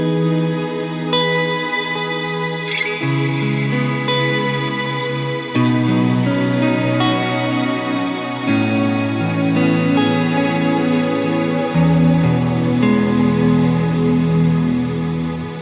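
Strymon BigSky reverb pedal in cloud mode with the Ensemble Engine, washing sustained guitar chords in a thick, shimmering, swelling ambience; loud, dense and continuous as the chords change slowly, with no speech.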